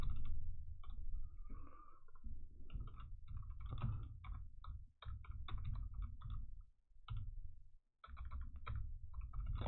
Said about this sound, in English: I thought my typing had improved, but obviously it's getting bad again.